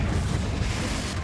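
The Confringo fire spell exploding in Hogwarts Legacy, a dense, loud, rumbling blast that fills the whole moment with no voices.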